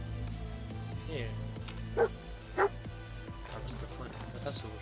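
A dog in the video game Fallout 4 gives two short sharp barks amid soft whimpers and yips over low game ambience, with someone talking.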